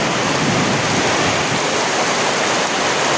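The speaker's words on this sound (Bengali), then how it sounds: "প্রচণ্ড পরিমাণ বৃষ্টি হইতেছে" Heavy rain pours down in a dense, steady roar that fills the whole clip, loud and unbroken with no gaps.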